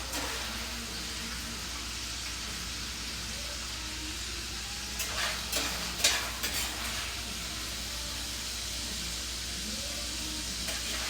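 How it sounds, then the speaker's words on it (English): Cooked meat is scooped from a sizzling pan with a slotted spoon: a steady faint sizzle runs throughout while a brief cluster of scrapes and taps rises midway. "I'm going to use my slotted spoon, and I'll scoop it out"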